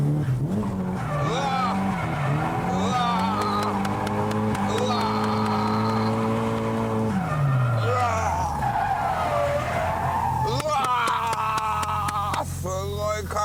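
A car circling Tsukuba circuit kicks the clutch so its tail slides out, tires squealing loudly in a long skid over a steady, droning engine, with later bursts of revving and fresh squeals.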